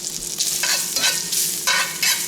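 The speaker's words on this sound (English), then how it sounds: "this is just a cast iron pan, and put the bacon in first" Bacon frying in a hot cast iron pan, a steady close sizzle with several bursts of louder crackle as the strips are pushed around, with no talk.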